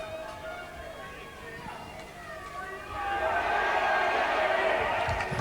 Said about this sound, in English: And a big cheer for Hugh Waddell as he comes into the game